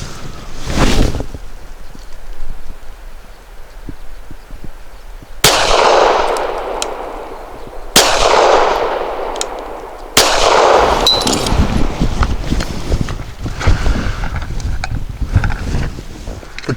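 Walther Q5 Match steel-frame pistol firing Browning BPT 147 grain ammunition outdoors, three sharp loud gunshots a couple of seconds apart, each with a long ringing echo tail over steady wind noise.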